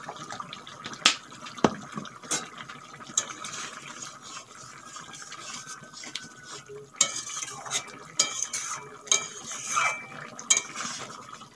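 Egg and red lentil (masoor dal) curry with potatoes cooking in a pot, heard as soft stirring and scraping with clinks of a utensil against the pot and faint bubbling, with no talking.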